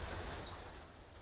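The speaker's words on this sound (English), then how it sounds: "I can dial back the rain." Steady soft rain hisses as a broadband wash in a game landscape, faint and continuous without other sounds.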